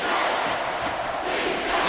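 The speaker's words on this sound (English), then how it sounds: "crowd is almost shaking the stadium" Stadium crowd at an Alabama Crimson Tide vs Florida State Seminoles college football game, a dense, loud roar of cheering and yelling that holds steady throughout with no clear individual voices.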